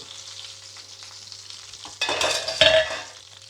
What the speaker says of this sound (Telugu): సిమ్లో పెట్టుకొని మాత్రమే ఫ్రై చేసుకోండి, కొద్దిసేపు మూత పెట్టుకొని